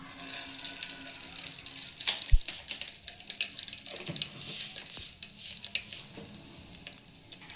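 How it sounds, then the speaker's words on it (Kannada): Mustard and cumin seeds spluttering in hot oil for a chana dal curry, a hissing watery crackle with scattered pops and a sharp knock, close and moderately loud, no talk. "ಈಗ ನೋಡ್ರಿ ಏನು ಚಟಪಟ ಸಿಡ್ದೈತಿ"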